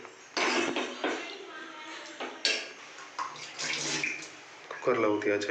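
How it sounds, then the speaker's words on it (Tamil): Water pours and splashes steadily into a metal pressure cooker in a few bursts, close and fairly loud, with a little speech mixed in. "கொஞ்சம் தண்ணியை ஊற்றி அதை அப்படியே குக்கரில்"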